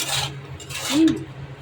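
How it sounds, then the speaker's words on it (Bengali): Salt being dry-roasted in a pan on a gas stove, stirred with a utensil that scrapes and clinks against the metal in short, close bursts, with no voices. "নুন ভাজছি, নুন ভেজে তারপরে ঠান্ডা করে তুলে রাখবো বয়েমে"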